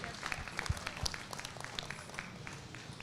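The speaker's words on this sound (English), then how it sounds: "Give them a big round of applause for all they do here at Rodeo Austin for our youth." A rodeo crowd at Rodeo Austin claps for a few seconds, with scattered, fairly distant claps and a faint, thin texture.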